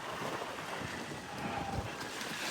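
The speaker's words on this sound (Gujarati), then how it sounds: "આમ જોવા ખાલી બહુ જબરજસ્ત પવન આવી રહ્યો" Strong wind gusting at a home in Aslali as rain approaches, a loud continuous rushing roar with buffeting against the microphone and no talk.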